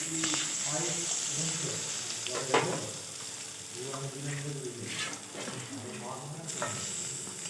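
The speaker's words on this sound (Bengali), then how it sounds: "প্রতিটা সবজি তেলে ভেজে নিতে হয় তার তেলটা একটু বেশি হয় এই সবজিতে" Vegetables frying in plenty of oil for Bengali shukto, a steady sizzle with stirring and utensil scrapes, while a voice talks over it throughout.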